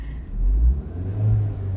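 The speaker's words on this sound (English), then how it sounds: "We're supposed to be revving engines" A car engine revs hard in two brief swells, loud and close, a deep rumbling roar with no talk over it.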